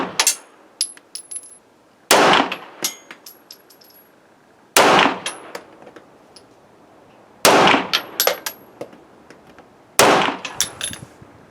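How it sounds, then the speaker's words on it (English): Five sharp, loud gunshots from a Rock Island Armory M1911 A1 9mm pistol fired at a range during an accuracy test, spaced about two and a half seconds apart, each followed by brief metallic clinks. "we'll do five shots on the center target and 3 shots on the perimeter targets all the way around the target itself"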